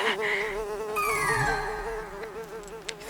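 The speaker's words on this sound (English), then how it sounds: "It's a bee, Mr. Beetle." Bee buzzing close by in a family movie scene, a steady wavering drone that hums continuously for a few seconds with no talk over it.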